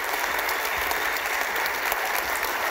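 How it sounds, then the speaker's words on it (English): A large audience at a business lecture claps steadily, a dense, even wash of applause filling the whole moment with no pause. "Gentlemen, give a great round of applause."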